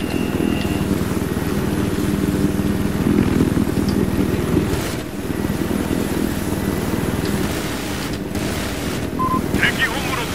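A helicopter flies in a Battlefield 4 match on the Paracel Storm map, with a constant loud rotor and engine roar mixed with wind and surf noise and occasional brief game sound effects.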